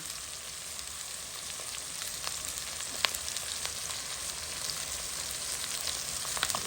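Onion fries in a pan over a fire, producing a dense, even sizzle like light rain, with faint pops and occasional clicks throughout, close up and with no talking.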